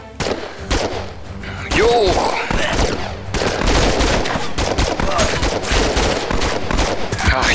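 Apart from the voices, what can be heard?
pistol gunfire in VR video game Operation Serpens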